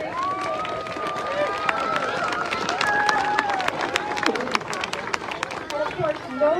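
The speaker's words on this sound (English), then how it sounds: "Big round of applause" A crowd claps and cheers at a State House Christmas tree lighting, a dense outdoor round of applause with scattered sharp claps and whoops, and voices mixed through it.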